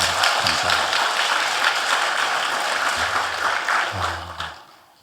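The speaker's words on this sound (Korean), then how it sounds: "우리 한번 격려의 박수를 한번 하겠습니다." A church congregation applauds after the Gloria choir's hymn during a Sunday worship service, a steady broadband clatter of many hands that carries through the clip and tapers off at the end.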